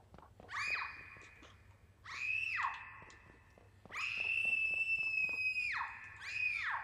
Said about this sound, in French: Jessica vient de crier.